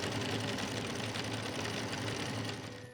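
Sewing machine running steadily while stitching a fabric hat worked in circles, a fast continuous mechanical whir and rattle, close and loud for the whole stretch, fading slightly at the end.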